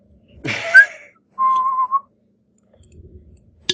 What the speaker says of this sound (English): She whistles innocently.